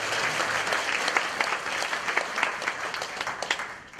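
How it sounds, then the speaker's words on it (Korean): A church congregation applauds steadily, a dense even wash of many hands clapping that fills the space without a break and eases slightly toward the end. "잘하셨으면 박수 한번 쳐주세요."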